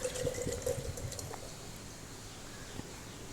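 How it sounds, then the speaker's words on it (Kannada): Tender coconut water poured from a freshly opened coconut, a faint continuous trickle and splash that fades after the first moment, with no talk. "ಇನ್ನೊಂದು ಎಳ್ನೀರನ್ನು ಒಡೆದು ಹಾಕ್ಕೊಳ್ತಾ ಇದ್ದೇನೆ"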